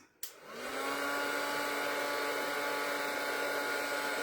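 A heat gun switches on with a click and then blows a steady, loud, broadband airflow roar without pause, used to heat shrink foil for a floral craft piece.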